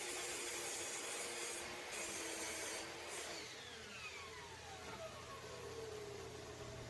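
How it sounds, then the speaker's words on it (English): Pine board being cut into shorter pieces with a power saw, a steady high whining drone with a low motor hum beneath it, pitch sliding downward as the blade slows near the end. "I cut off a couple of shorter, more usable pieces I could use to make this vase"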